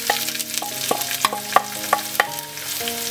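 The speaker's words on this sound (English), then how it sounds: "And we'll stir fry it for about a minute or so" Onion stir-frying with black mustard seeds in a hot pan, a steady sizzle broken by repeated sharp scraping and clinking strokes of a utensil, close and fairly loud, with no voices.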